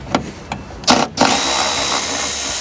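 A power tool fitted with a 10mm socket works loose a fastener on a car tail light, giving a few short clicks and bursts before a steady whirring run close by.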